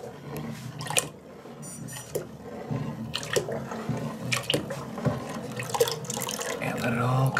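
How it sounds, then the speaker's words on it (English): Lye solution drips and trickles out of a container during homemade soap making with lye and lard, irregular splashy drips under ongoing room noise and nearby voices. "And let it all drip out for a second."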